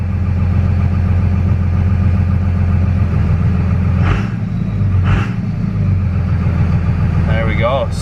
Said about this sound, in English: You can hear the revs dropping.